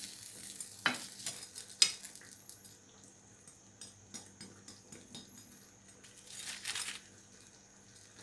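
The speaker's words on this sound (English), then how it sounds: "To the sauce, I'm going to add some soy sauce, and then I'm going to add my fish." Fish balls go into a simmering soy and turmeric sauce with a few sharp clinks and soft plops, followed by quiet bubbling and light utensil scrapes near the pan, with no voices.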